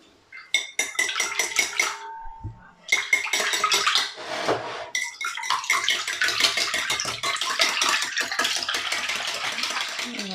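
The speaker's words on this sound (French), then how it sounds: "On va fouetter un petit peu." Whisk beating eggs and milk for crêpe batter in a bowl, a rapid steady clatter of metal against the bowl, loud and close, running almost continuously with brief pauses.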